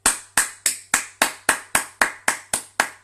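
Evenly spaced sharp claps from a congregation at a French-language church service, about three per second, loud and close, each decaying quickly, with no talk over them.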